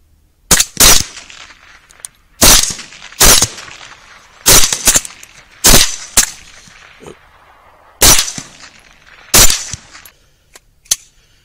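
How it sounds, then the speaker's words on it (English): Hunters fire rifles at feral hogs at night, a loud series of sharp gunshots, often in quick pairs, spaced a second or two apart over several seconds, each with a brief echoing tail. "You just shoot and I'll shoot after you shoot."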